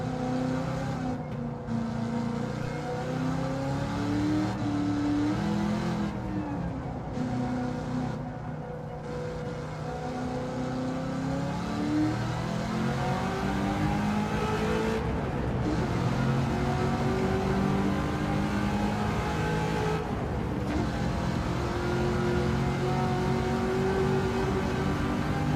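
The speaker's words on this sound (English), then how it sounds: "we've got the Yamaha engine" A Yamaha engine swapped into a General Motors car in Gran Turismo 7 revs hard and continuously, its pitch climbing and falling through gear changes with brief dips, loud and close with no talk over it.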